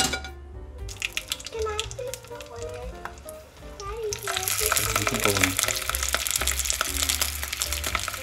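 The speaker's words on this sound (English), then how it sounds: "we're going to sear the brats on each side before dunking them in the" Bratwurst searing in hot oil in a frying pan before a beer soak, a steady crackling sizzle that grows louder and denser partway through, with utensil clinks and a voice faintly in the background.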